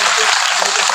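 An audience claps loudly at a school ceremony welcoming society members and teachers, a brief dense burst of many hands with voices mixed in.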